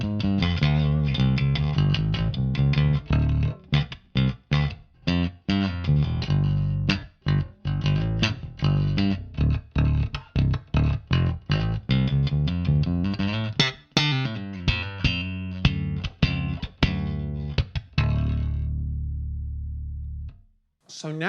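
A Jazz bass played through a Lusithand Devices 800TS preamp with the pickup blend turned toward the neck pickup plays a busy run of plucked notes and rhythmic muted stops, loud and up close, ending on a sustained low note.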